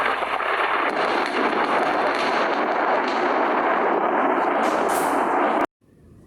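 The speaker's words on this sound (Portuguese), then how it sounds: "E uma tempestade de raios começou a cair." A thunderstorm sound effect of heavy, continuous rumbling and crackling roars loudly for several seconds, then cuts off abruptly into near silence.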